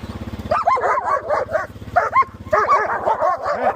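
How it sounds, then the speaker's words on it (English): Several dogs barking close by in rapid, overlapping bursts, with yips and whiny cries mixed in, over a low rhythmic engine-like drone. "These dogs will drive you nuts."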